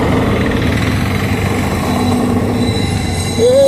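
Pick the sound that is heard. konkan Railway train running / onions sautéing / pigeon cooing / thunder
konkan Railway train running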